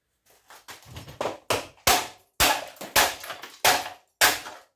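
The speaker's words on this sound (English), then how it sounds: "I hit it with a hammer here and see" A series of sharp metallic hammer strikes, about a dozen loud bangs in an uneven rhythm, close by with no talking.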